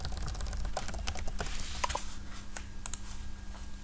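Steady typing on a computer keyboard, a dense run of quick light key clicks with a few louder taps, close and continuous over a low background hum, with no talking.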